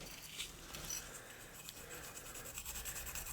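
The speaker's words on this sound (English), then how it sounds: "we're gonna go ahead and use some of this here Scotch-Brite" A Scotch-Brite pad scrubs a primed 1:32 scale diecast Nissan Skyline body, giving a faint, steady rasping rub that continues throughout without pause.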